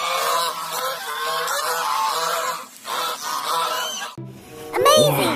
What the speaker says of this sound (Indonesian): Ini angsa, teman-teman.